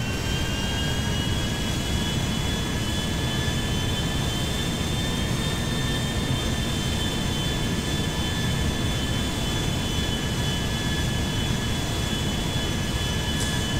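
Airbus A350 jet engines drone steadily in the game GTA 5, a loud, constant broadband roar with sustained whining tones that hold throughout without pause.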